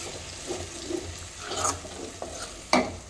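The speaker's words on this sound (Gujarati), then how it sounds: "હવે આપણે મરચાંને મિક્સ કરી લઈશું" A spoon scrapes and stirs Kashmiri red chili powder into a thick onion masala in a pan, giving a few soft sizzles and one sharper clack near the end. No one speaks.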